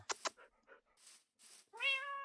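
A cat answers a call with a clear drawn-out meow near the end, preceded by a few faint soft chirps and clicks, close and quiet outdoors.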